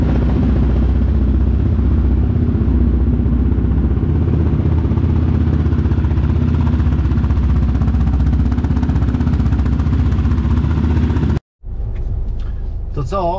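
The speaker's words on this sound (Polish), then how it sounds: "jadę odpalić kłada" A quad ATV engine runs loud and close, a steady rough rumble for about eleven seconds before cutting out abruptly, followed by a brief stretch of quieter sound with a voice.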